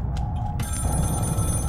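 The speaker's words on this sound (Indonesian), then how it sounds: "Oh iya ada suara, baru kedengeran nih suara telepon." A telephone rings inside a building in the SCREAM horror video game, a steady electronic ringing tone over a low rumbling background, heard briefly and fairly clearly.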